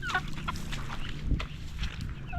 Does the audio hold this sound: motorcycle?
no